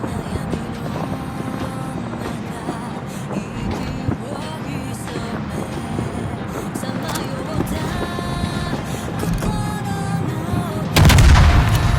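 A tank main gun firing in a video game, heard amid a loud, continuous mix of engine rumble and battle noise, with a heavy, booming blast near the end.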